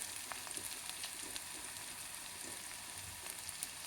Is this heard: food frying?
yes